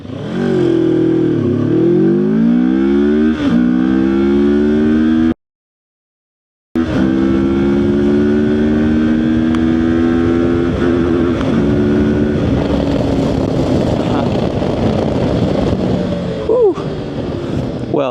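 CFMOTO 700MT motorcycle engine accelerating hard from a standstill, loud rising revs climbing through several gear shifts with wind rushing past, broken by a short gap of silence.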